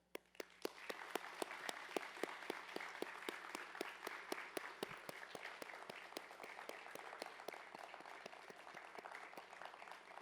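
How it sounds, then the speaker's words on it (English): Steady, sustained clapping from a large indoor audience at a fire academy graduation ceremony, dense and continuous for about ten seconds, heard from some distance. "please stand and give your loved ones a round of applause"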